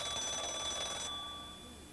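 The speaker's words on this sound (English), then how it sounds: "There's the bell again." School bell on a language-course cassette recording, a steady bright electric ring lasting about a second, then a faint tone lingering as it fades, with no talk over it.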